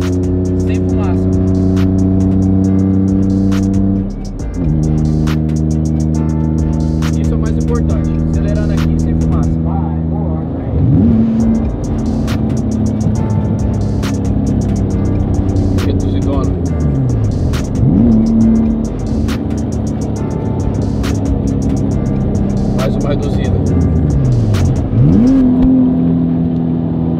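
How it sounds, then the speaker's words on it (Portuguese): A Nissan 350Z drives and revs repeatedly, engine pitch climbing through the gears then dropping sharply several times as it is pushed to slide sideways, loud and close throughout, with exhaust pops between pulls. "Vai fazer o Z sair de lado."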